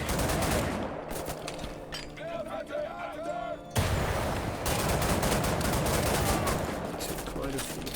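Gunfire in a shooting video game rattles in dense, rapid bursts with heavy explosive crashes, loud and nearly continuous, with a short lull in the middle where faint musical tones come through.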